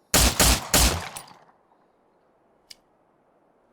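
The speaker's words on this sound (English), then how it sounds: "HK45 sounding really," Three rapid HK45 pistol shots in Miscreated, loud and close with ringing decay, followed by a faint metallic click.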